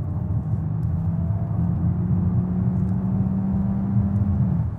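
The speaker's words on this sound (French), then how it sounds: "On entend le moteur thermique qui démarre." Petrol engine of a Peugeot 408 plug-in hybrid running inside the car, a steady low hum and rumble heard from the cabin, continuous throughout with no distinct start.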